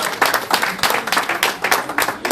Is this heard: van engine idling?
no